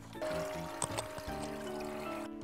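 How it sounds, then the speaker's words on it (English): Water pours steadily from a tap into a small toy baby doll bathtub with built-in lights, a continuous close splashing trickle lasting a couple of seconds with faint tonal hum underneath, no talking. "I'm going to fill up the bathtub for baby Carly."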